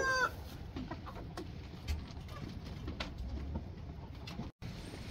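A hen clucks and murmurs softly among other birds, with scattered short calls over a steady background of farmyard noise.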